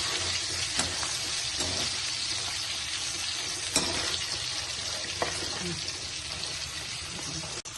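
Chicken pieces frying in a pan give a steady sizzle, broken by a few clinks and scrapes as they are stirred.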